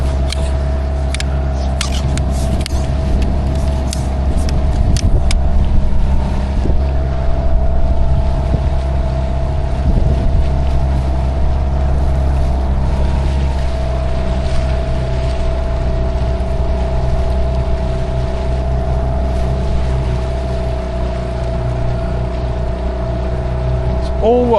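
An outboard engine on a Boatworld Cruiser 380 tunnel hull inflatable boat drones steadily on its maiden trip, a constant close hum with wind noise and people talking over it.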